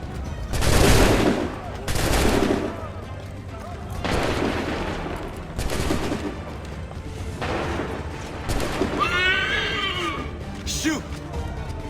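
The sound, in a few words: musket volley gunfire in Assassin's Creed 3 video game cutscene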